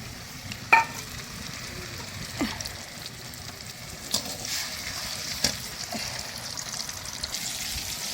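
Ground spice paste sizzles steadily in hot oil in a wok over a village stove, a continuous frying hiss broken by a few sharp clicks and scrapes of stirring.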